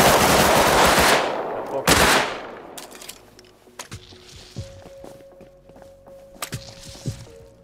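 Rapid turret gunfire in the Rust Console Edition video game crackles out in two loud bursts, followed by quieter thuds and footstep-like clicks as the shooting stops.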